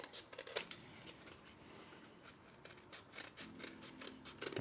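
Scissors snip around the corners of thermoplastic splint material in a run of quiet, close, crisp cuts, irregularly spaced, with soft rustling of the sheet between clips.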